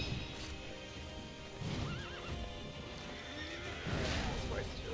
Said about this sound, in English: This horse is really cool.